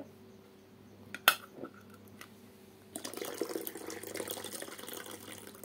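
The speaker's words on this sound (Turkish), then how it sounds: "tekrar tencereme suyu döküyorum." Water poured back into a cooking pot in a kitchen, a short metallic clink first, then a steady close splashing pour that fills the second half, with no talk.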